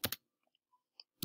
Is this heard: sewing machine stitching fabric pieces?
no